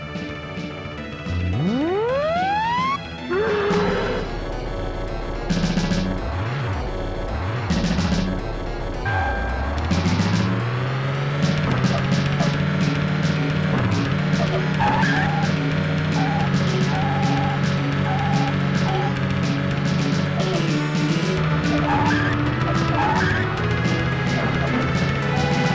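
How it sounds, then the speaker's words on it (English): Upbeat first-stage music from the Super NES game Alien Vs. Predator, a steady synthesized chiptune with a driving bass line and bright melody, loud and continuous throughout with no talk. "the music in the first stage sounds like it was taken from a random driving game"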